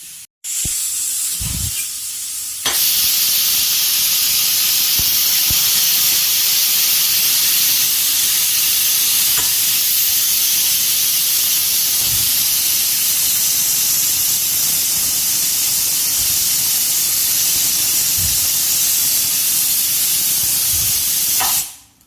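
Pressure cooker on the stove cooking country chicken Mangalore-style, letting off a loud, steady steam hiss and whistle that runs almost unbroken for about twenty seconds after a brief start, with no talk over it.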